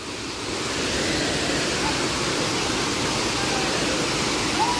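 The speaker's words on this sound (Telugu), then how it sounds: "చూడండి ఇదే అనమాట వాటర్ ఫాల్" A waterfall roars in a dense, steady wash of rushing water, loud and continuous, heard up close without talking.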